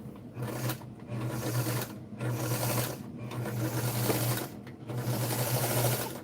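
A White zigzag sewing machine, Model 782, runs with its needle removed. A steady mechanical hum and rattle comes in bursts of about a second, with short pauses between runs, close and fairly quiet.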